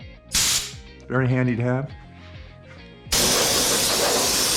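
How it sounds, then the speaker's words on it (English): Compressed air from an air compressor blows dust out of a helmet in sharp, loud hissing bursts: a short blast near the start, then a long continuous rush at the end. Someone talks in between. "Let's get the air compressor into this. Just blow out the dust."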